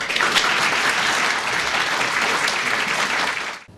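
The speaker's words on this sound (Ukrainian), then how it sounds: "Аплодисменти." Dense applause from a crowd at a prosecutor's office board meeting, loud and sustained, then quickly fading out at the end.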